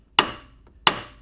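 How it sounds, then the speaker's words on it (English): Two sharp metallic hammer taps on the hub of a 2002-06 MINI Cooper, knocking out an outer ball joint; each strike rings briefly, spaced under a second apart, close and clear with no talk. "tapping it out like that, and if you're lucky it'll come right out"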